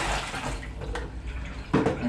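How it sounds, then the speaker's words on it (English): Water poured out of a container to empty it splashes and gurgles briefly at close range, with a louder splash near the end. "I'm going to have to pour that out, start again, because I need 5 litres."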